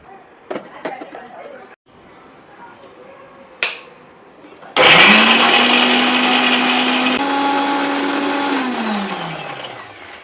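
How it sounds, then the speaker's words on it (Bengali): A kitchen mixer grinder whirs loudly and steadily as it grinds fish masala, running continuously for several seconds after a few short clicks and knocks, then slowing as it winds down. "তো চলো এখন আমি মিক্সিটা আগে করে নিই।"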